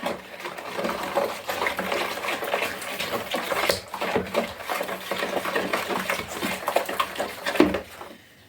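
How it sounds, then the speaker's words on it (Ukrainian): Kefir being stirred into batter in a bowl, with steady scraping and wet sloshing as the spoon circles, close and continuous with a few louder clinks. "Так, додаємо тепер кефір. Ось так розмішуємо добренько все це."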